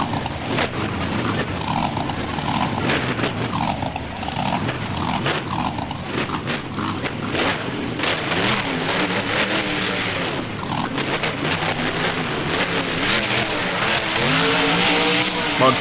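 A monster truck in a BeamNG game drives up over parked cars and bounces off a stadium wall, a loud continuous engine roar with rattling crashes and clatter throughout, rising toward the end.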